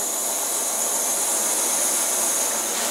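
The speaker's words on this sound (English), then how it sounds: "We have reached a good rolling boil at this point." Water at a rolling boil in a pot on an MSR Whisperlite Universal camping stove fed by a Primus fuel pump, with a loud, steady roaring hiss from the burner that runs unbroken throughout.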